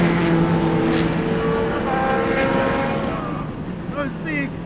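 Courage C65 LMP2 prototype race car engine revving close by, with steady droning harmonics, throttle blips and gear shifts that rise and fall in pitch, under a faint voice.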